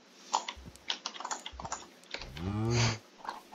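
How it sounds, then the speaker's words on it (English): A keyboard clatters with quick, soft key taps from a Minecraft character typing, close and quiet, with a short low voice-like drone partway through. "Steve is typing up something right now."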